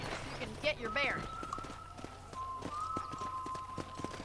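Horse hooves clip-clop in the video game Red Dead Redemption, a steady series of light, evenly spaced hoof hits under continuous game music and ambience, with a few louder vocal sounds near the start.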